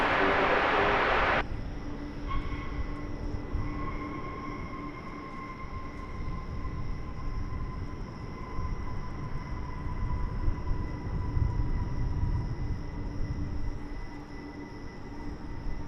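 An airliner taxiing at DFW Airport, a steady distant jet engine whine with a low broadband rumble holding evenly throughout, no talk over it.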